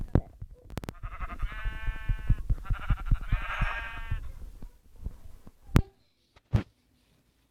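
Sheep bleat in a video game, two drawn-out bleats following each other closely, with clicks and short thumps at the start and end.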